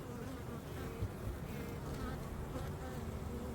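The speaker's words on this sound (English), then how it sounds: "There's tons of bees in the bottom as well." A dense, steady hum of many honeybees buzzing in a hive box close by, continuous and low, with no voices over it.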